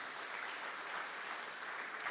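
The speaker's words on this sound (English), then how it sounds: "We should give them a round of applause." Audience applause at a technology talent impact summit, a soft, continuous spatter of many hands clapping, faint and distant with no voices over it.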